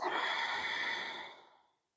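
A single long, soft exhale during a beginner yoga session, airy and close, fading away to silence.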